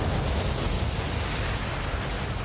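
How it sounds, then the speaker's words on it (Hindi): A blast blows up a train compartment: a dense, roaring rumble of explosion that stays loud and sustained for the whole stretch without any fade. "तभी अचानक तेज धमाका हुआ और वायसरॉय की ट्रेन का एक कंपार्टमेंट उड़"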